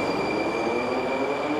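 Moscow metro train running through the underground, a steady loud rumbling roar with a high metallic whine and squealing wheel tones, continuous and close, no voices.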